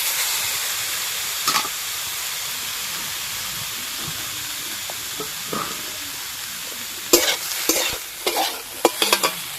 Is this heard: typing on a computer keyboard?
no